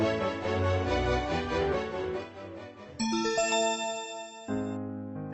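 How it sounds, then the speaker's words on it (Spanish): A bright chime rings out over a gentle musical background, followed by a sustained bell tone and then a lower tone, cueing a page turn in a Spanish-language Hansel and Gretel storybook reading. "Al oír la campana, dale vuelta a la página."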